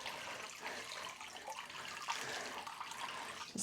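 Water sloshes and trickles quietly as soaking raw sheep fleece is lifted out of a dirty scouring wash, soft splashes and drips rising near the end, faint and close with no talking.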